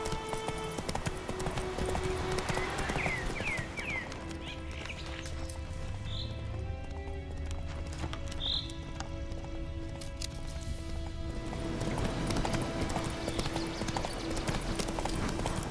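Geralt's horse Roach gallops in The Witcher 3, a steady, rapid clip-clop of hooves running under ambient game sound, with a few brief bird-like chirps.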